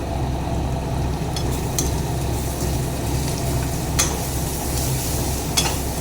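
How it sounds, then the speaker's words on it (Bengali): Ground cumin, coriander, Kashmiri chili and turmeric stirred in a hot pan for chicken curry, a steady sizzle with faint scraping clicks of the spoon, close and continuous. "এবার সবটা দিয়ে ভালো করে নেড়ে চেড়ে নিচ্ছি বন্ধুরা।"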